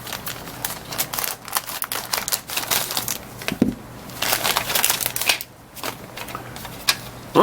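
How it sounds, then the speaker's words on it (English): Plastic packaging on a 1970 Dodge Challenger R/T AMT 1:25 scale model car kit being cut open, with close crinkling, crunching and snipping that comes in irregular bursts. "Cut that open."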